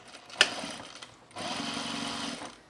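A sewing machine stitches a dart in canvas cargo shorts, a short quiet whir of about a second after a sharp click, running alone at close range.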